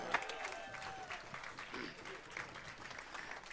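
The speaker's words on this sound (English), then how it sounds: "Give them a round of applause." Audience applause at a jazz orchestra concert, a steady wash of clapping heard from within the crowd, continuous and moderately loud throughout.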